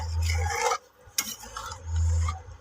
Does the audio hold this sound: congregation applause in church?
no